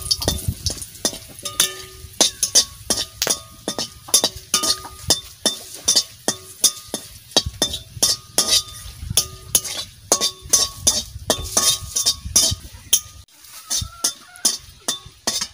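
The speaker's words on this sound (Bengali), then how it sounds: "কটা শুকনো লঙ্কা ভাজা করে নিই" Dried red chillies fry in a pan with steady sizzling, overlaid by rapid, irregular scraping and clinking as they are stirred and tossed, loud and close with no talking.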